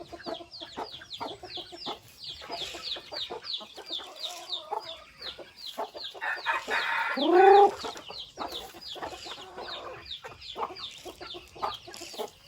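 Gamecocks cluck continuously in a rapid, chattering rhythm, with one louder, drawn-out call rising partway through, all close by.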